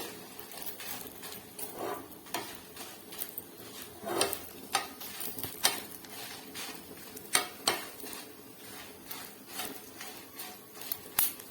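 Dried chillies frying in oil with salt, a steady close sizzle broken by frequent scraping and clinks of a utensil stirring against the pan, with no talking.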